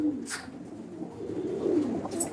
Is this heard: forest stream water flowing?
no